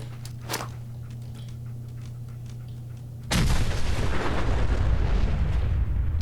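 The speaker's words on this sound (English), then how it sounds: "let's test out one of these two grenades, shall we? We know we can make them ourselves. Nuka quantum grenade." A Nuka quantum grenade in Fallout 4: quiet game ambience with faint steps, then a sudden loud explosion that bursts in and sustains as a heavy roaring rumble to the end.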